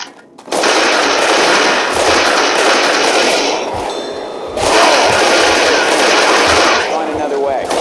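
Pistol gunfire in Left 4 Dead 2 on Hardcore difficulty, a loud, dense run of sharp shots over a constant roar of game noise, briefly easing before picking up again.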